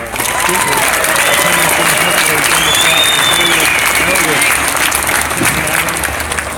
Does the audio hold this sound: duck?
no